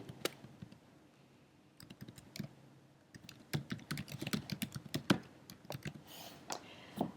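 Typing on a computer keyboard, a sparse run of key taps that grows into a faster, denser stretch of clicks, close and fairly quiet with no speech.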